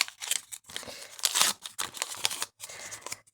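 Close paper crinkling and tearing in short bursts with brief pauses, as a small paper surprise packet is pulled open.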